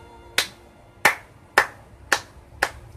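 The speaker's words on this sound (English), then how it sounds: "let me pause the video because I would just like to give him a round of applause" Five separate hand claps, sharp and close, spaced evenly about half a second apart, with near silence between them.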